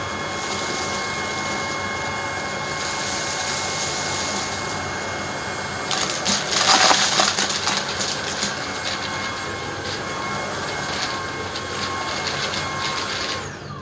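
A Tineco Pure One cordless vacuum cleaner runs on high over carpet, giving a continuous high whine that briefly surges louder midway.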